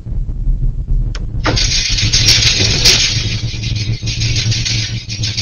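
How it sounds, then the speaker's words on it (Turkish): A security camera in Bartın captures an earthquake: a sudden loud rushing roar that starts abruptly and keeps on steadily over a low rumble, with rattling and clattering from shaking objects. "Deprem anına ilişkin ortaya çıkan güvenlik kamerası görüntülerine sarsıntı sesi de yansıdı."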